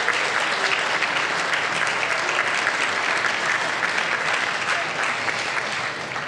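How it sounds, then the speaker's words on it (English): Diners at a Steve McQueen tribute dinner give Christine and Brent a thank-you round of applause: an even, continuous wash of clapping that holds steady and eases slightly at the end. "can say thank you with a round of applause"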